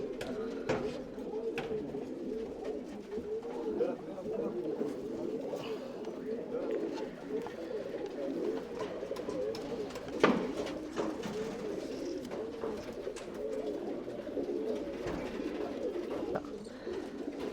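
Tumbler pigeons in a Bangalore loft coo in a steady, overlapping murmur of soft rolling calls, close by and continuous throughout.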